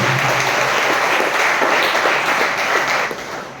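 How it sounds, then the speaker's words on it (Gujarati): An indoor audience at a religious gathering bursts into loud, dense clapping, a steady close wash of applause that tapers off slightly at the end. "એના માટે એક તાળી આપીએ"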